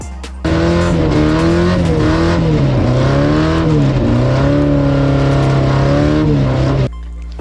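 A Toyota AE86 drift car's engine revs hard and close for several seconds, its pitch climbing and dipping through repeated throttle blips with a raspy, high-revving tone before cutting off abruptly.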